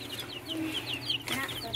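Newly hatched chicks cluck and chirp softly in quick, overlapping calls close by, with a few higher peeps mixed in.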